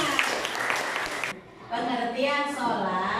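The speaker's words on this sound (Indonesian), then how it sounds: "Tepuk tangan Fatimah." Brief applause from a classroom of students, a burst of scattered clapping that cuts off abruptly, followed by a teacher talking.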